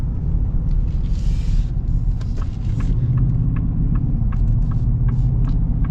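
A 2025 Ford Super Duty Tremor with the 7.3L Godzilla V8 under way, its deep, steady engine rumble and road noise filling the cabin continuously and loudly.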